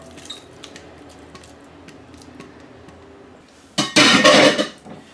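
Beef bourguignon ingredients stirred in a cooking pot with onions and spices: faint scattered clinks, then a loud scraping, sloshing stir for about a second near the end.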